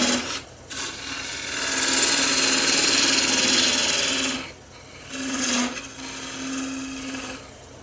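A pepper mill blank is turned down on a wood lathe. A tool scrapes and rasps against the spinning wood in long, loud passes, with brief pauses where only the lathe's hum remains.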